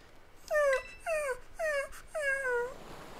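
A dog Pokémon whimpering in the video game Pokémon Violet, four clear, high, falling whines in a steady rhythm, close and alone.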